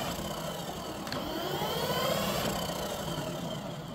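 Electric fruit peeler spinning garlic and onions: a steady motor whir with a rough rattling churn that holds at one even level for the whole stretch, close and with no talking.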